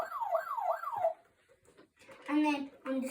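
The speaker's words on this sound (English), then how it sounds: "And then it's got an emergency siren." A Superthings toy rescue truck sounds its electronic emergency siren, a loud rising-and-falling wail cycling about three times over a second before stopping, followed by a person talking nearby.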